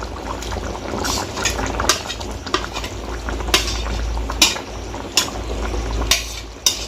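Pointed gourd curry with fried prawns bubbling in a pot while a spoon stirs it, steady simmering hiss under repeated scraping clinks of utensil against metal, no talk.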